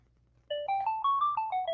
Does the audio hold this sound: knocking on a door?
no